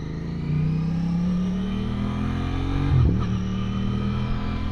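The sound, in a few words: Volkswagen Golf convertible car driving past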